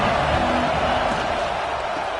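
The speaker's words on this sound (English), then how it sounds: "This crowd ready to make its presence known." Stadium crowd noise in an American football video game, a loud, dense roar of spectators that stays continuous and fairly steady throughout.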